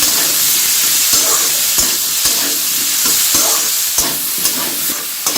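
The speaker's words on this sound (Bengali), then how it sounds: "এখন আমি নাড়তে থাকবো" Vegetables and green peas for navratan being stirred in hot oil in a pan, giving a continuous loud sizzle broken by repeated scraping knocks of the spoon.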